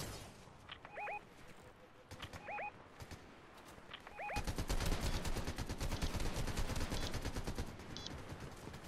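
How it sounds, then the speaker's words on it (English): Gunfire in the Fortnite video game, dense rapid bursts of shots filling the second half after a few sparse effects and faint tones earlier, loud and continuous. "Who are you shooting at?"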